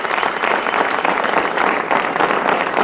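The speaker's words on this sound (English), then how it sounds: "I think that deserves a round of applause" A studio audience breaks into applause during a talk show interview, a short, continuous wash of clapping from many hands, fairly loud and even with no voices on top.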